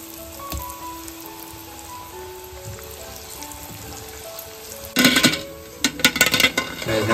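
Bora fritters sizzling in hot oil as a new batch is added: a steady, soft crackle and hiss, then a louder, busier burst of spattering with occasional light clinks of a utensil.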